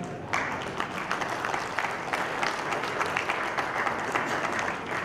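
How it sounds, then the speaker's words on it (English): Steady audience applause at a business knowledge summit, many hands clapping in a continuous moderate wash that starts abruptly and holds throughout. "Round of applause, yeah."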